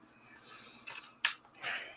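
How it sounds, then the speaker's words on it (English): A deck of reading cards being shuffled, quick papery riffles and flicks in short bursts, close and fairly soft. "So I'm just shuffling the cards."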